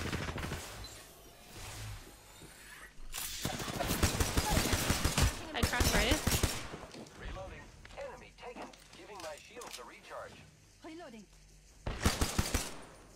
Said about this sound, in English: That is a Kraber.